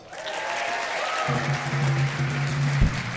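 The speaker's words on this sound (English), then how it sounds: "Let's give a round of applause" A live audience applauds for a volunteer called up on stage during a recorded comedy show, steady clapping throughout with a low hum entering partway.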